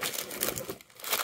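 A plastic bag holding Belego bricks and food items crinkles and rustles up close, a short burst of crisp crumpling that dips briefly before rising again.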